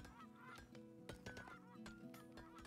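A flock of geese in the video game Farthest Frontier honks repeatedly in overlapping calls over a steady ambient game background, with no talk.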